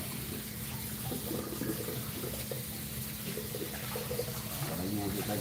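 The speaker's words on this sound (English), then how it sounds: "Get my cutting board washed off." Tap water runs steadily into a kitchen sink while a cutting board is rinsed under the stream, a continuous close splashing wash with faint clatter, made while preparing a Jamaican okra, carrot and peanut punch.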